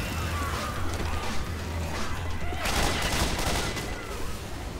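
Weapons fire in Left 4 Dead 2 co-op play: a dense, continuous fusillade of shots and impacts runs throughout, loud and close, with players' voices faintly underneath.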